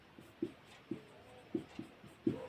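Pen or chalk strokes as an equation is written during a Class 10 math lesson, several quiet, separate taps and scratches in an irregular rhythm, close by and alone.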